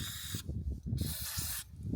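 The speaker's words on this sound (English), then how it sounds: "So I just want to put a little grease in there." Grease sprayed into the handlebar height-adjustment lever of a BCS 853 walk-behind tractor: two close, steady hissing bursts, the first about half a second and the second a bit longer, separated by a brief pause.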